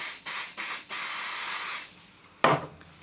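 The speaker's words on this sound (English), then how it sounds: "we're just going to spray that onto that part there" Super glue activator sprays from a can onto wood in several short close hisses, then a longer continuous spray, followed by a brief knock or rub after it stops.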